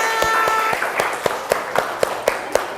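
A small group in a teacher coaching session claps along together, with sharp, rhythmic claps at roughly even intervals over a faint murmur and some voices early on.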